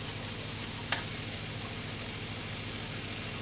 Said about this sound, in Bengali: মশলার সঙ্গে কষিয়ে নিচ্ছি।